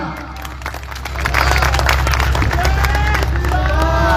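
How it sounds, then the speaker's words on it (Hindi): An audience at a coin auction during a Shri Ram coronation event in Sirsa breaks into loud clapping and cheering, a steady mass of applause that swells after a second and holds with crowd voices mixed in. "तो जोरदार तालियां।"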